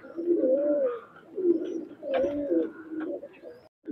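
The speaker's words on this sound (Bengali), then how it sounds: "এই যে কবুতরটা ছাড়া হলো, টেডি সিঙ্গেল মায়া কবুতর, নিউ এডাল" Pakistani highflyer pigeons, a newly adult Teddy single Maya bird among them, coo in a loft: three or four rolling, throaty coo phrases repeat close by in a steady rhythm, with no talking.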